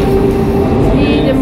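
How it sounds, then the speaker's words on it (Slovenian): Zagreb tram number 8 riding through the city, heard from inside: a steady rolling rumble with a sustained motor whine and faint higher squeals, continuous and fairly loud. "sad smo upravo ušli u osmicu, u tramvaj opet"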